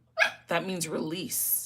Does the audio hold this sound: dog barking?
yes